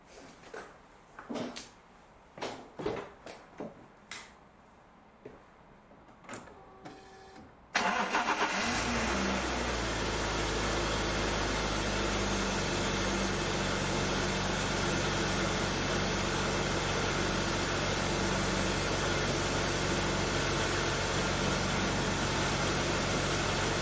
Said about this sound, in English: I'm just going to start the engine, make sure it's running okay